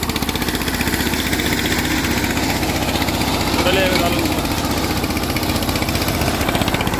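A special Haryana tractor engine runs loud and close with a steady, throbbing mid-pitched chug, while someone talks over it.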